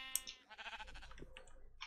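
Sheep in the video game Minecraft give short, quiet bleats in a quick series with small clicks between them.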